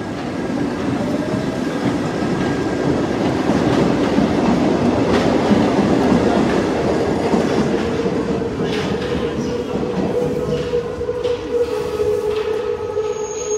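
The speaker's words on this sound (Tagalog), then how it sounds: "O, tingnan nyo yung train nila, oh." A Paris train rumbles loud and close with rhythmic clatter along the rails, then slows to a high, steady whine near the end.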